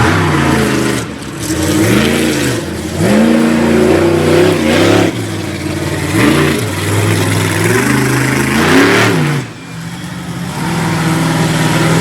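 A monster truck from a Pennsylvania 4x4 team revs hard at a Fredericksburg, Virginia monster truck show, its loud engine rising and falling in repeated throttle bursts with brief dips between.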